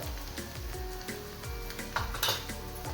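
Garlic sautés in hot oil in a pan, a steady sizzle running throughout, broken by repeated clinks and scrapes of a spoon stirring against the metal.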